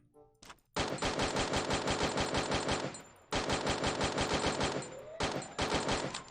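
Rapid automatic gunfire in the battle royale game Free Fire MAX, three loud, close bursts of evenly spaced shots separated by short pauses, no talking.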